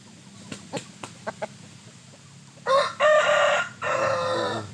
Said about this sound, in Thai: ดูพ่อไก่นะครับ